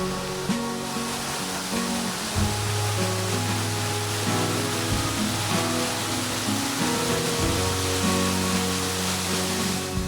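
Soormane waterfall in Kalsa, Chikkamagalore, about 40 feet high with sparse water falling from a stream over a bed of rocks, gives a steady, loud, continuous rush of noise without a break.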